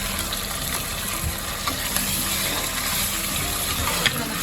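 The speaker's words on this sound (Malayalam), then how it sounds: "മട്ടൺ ചെറുതായിട്ടൊന്ന് വറുത്തെടുക്കുന്ന പോലാണ് ഞാൻ ചെയ്യുന്നത്" Mutton pieces coated in masala frying in oil for biryani, a steady close crackling and hissing sizzle running throughout with a few brief clinks.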